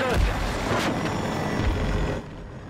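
Hostile helicopter in the shooter game Battlefield 2042, a loud continuous rotor-and-engine roar close by, with low thumping bursts, cutting down slightly near the end.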